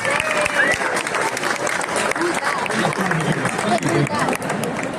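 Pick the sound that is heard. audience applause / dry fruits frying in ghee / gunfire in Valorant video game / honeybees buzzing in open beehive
audience applause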